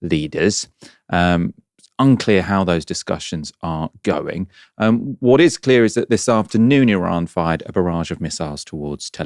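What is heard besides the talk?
No everyday noise stands out behind the speech.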